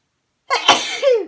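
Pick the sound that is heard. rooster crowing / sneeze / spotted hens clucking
sneeze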